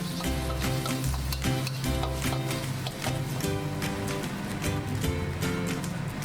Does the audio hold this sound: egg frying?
yes